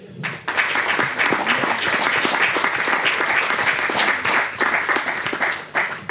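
Audience applause for an artist at a televised French music show, a full crowd clapping that starts abruptly and continues strongly and evenly for several seconds, briefly dipping near the end.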